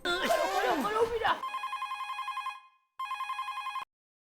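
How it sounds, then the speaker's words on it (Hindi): Two bursts of an electronic telephone ring in a sitcom home, loud and close, following a woman's brief speech at the start. "मैं डॉक्टर हाथी को फोन करती हूँ प्लीज।"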